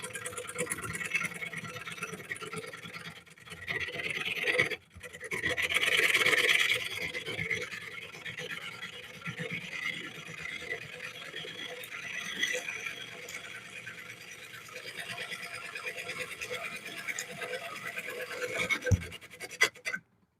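A wood gouge makes its third pass along a spinning piece of wood, producing a steady scraping rasp that runs for about twenty seconds, with brief breaks and a louder surge partway through.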